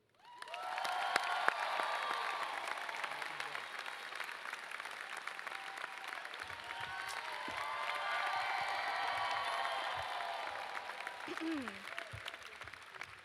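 Sustained applause from a large audience at a university new student convocation as a student speaker is welcomed to the stage, steady and full for over ten seconds, with a brief cheer and faint voices mixed in.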